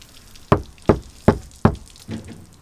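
Four sharp, dull knocks on a sound-deadened metal panel of a Ford 7.3 Powerstroke truck at a steady pace, then a fifth softer one, each short and deadened with little ring.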